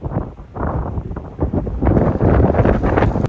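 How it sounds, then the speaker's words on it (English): Strong wind on the coast at John O'Groats buffets the microphone in loud, uneven gusts that build toward the end. "It's a bit windy."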